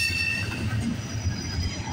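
A CPKC 132 freight train rolls past at night, a steady low rumble of railcars with faint wheel squeal above, continuous and fairly close, with no voices.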